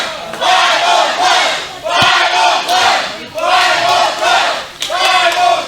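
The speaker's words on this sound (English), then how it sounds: "Crowd chanting for the Bible Club." A wrestling event crowd chants loudly in rhythmic bursts, about four swelling waves of massed voices with brief dips between them. The chanting dominates, with no separate speech.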